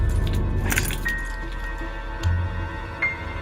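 Car keys jangle and clink in short bursts close by, light metallic chinks over a low background hum.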